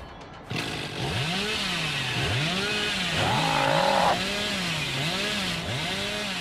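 A chainsaw revs in Dead by Daylight, wielded by the killer The Rancher, rising and falling in loud wavering pitch sweeps close up, with a brief higher whine midway and no voices.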